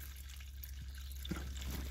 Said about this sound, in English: We've got a mini waterfall.